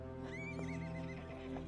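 A horse gives a clear, close whinny while hooves clip-clop beneath it, brief and distinct, outdoors on a mountain pass.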